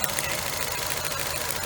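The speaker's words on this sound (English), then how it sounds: "So you got a misfire." A car engine runs up close with a misfire, a steady, loud, rough idle with an uneven knocking pulse throughout.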